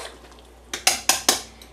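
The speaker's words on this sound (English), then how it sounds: "We want to give it a little stir just to make sure it doesn't stick together." A spoon stirs pasta in a pot of water for mac and cheese, giving four sharp metallic clinks against the pot in quick succession after a quiet start, close and clear, with no voices.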